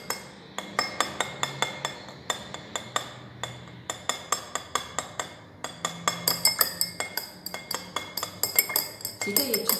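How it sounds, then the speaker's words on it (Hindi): A spoon stirs salt into water in a glass, making a long run of bright, rapid clinks against the glass at an uneven, busy rhythm. The clinks are close and distinct, with faint background sound between them. "सॉल्ट लेंगे और इसको मिक्स कर देंगे किसके अंदर? वाटर के अंदर"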